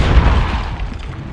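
A Depulso force spell impact in the Hogwarts Legacy video game, a loud close booming thud that fades into a rumbling tail.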